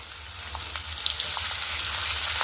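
A large onion, thinly sliced, frying in a pan: a dense, even sizzling hiss close up, dotted with small crackling pops and no voices.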